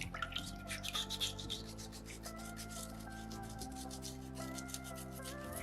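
Sandpaper rubs over a small soapstone shark carving in quick, steady back-and-forth strokes, a soft continuous scratching close by with steady background music underneath.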